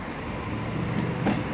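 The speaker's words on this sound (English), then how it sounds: "A big train." A train rumbles past nearby, a continuous low roar with some rattling, and no voices are heard.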